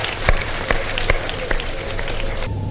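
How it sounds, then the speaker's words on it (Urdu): Studio audience at a Ramadan iftar television broadcast clapping for two mothers, dense continuous applause with a few sharper claps, ending abruptly. "تو ایک بار تالیاں بھرپور طریقے سے ضرور ان دونوں ماؤں کے لیے بجائیں"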